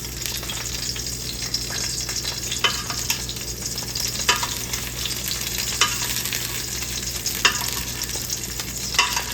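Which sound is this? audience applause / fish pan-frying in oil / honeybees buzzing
fish pan-frying in oil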